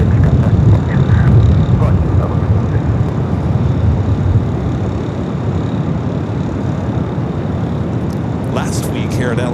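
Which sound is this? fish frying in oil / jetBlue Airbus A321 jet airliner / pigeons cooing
jetBlue Airbus A321 jet airliner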